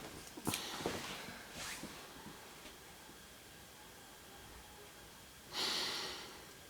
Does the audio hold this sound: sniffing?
yes